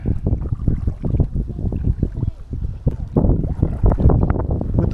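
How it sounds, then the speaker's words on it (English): Wind buffets the microphone on the Rio Grande during a kayak outing, a constant rough rumble with gusty surges and water splashing throughout. "With the wind blowing at us in the wrong direction."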